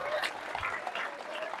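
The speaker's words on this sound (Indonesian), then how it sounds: "Iya, tepuk tangan dulu." A gathered group at a Saraswati holy day temple ceremony gives a short, fairly quiet burst of hand clapping that holds steady for a moment, with no voices over it.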